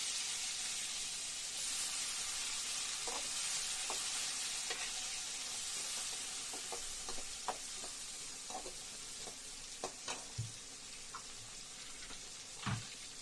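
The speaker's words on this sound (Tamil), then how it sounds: "வெங்காயம் கருவேப்பிலை போட்டு நல்லா வதக்கலாம்." Onions and curry leaves sauté in a pan for a yam tamarind curry, a steady soft sizzle under a run of scattered spoon taps and scrapes that grow more frequent toward the end, close and moderate, without speech.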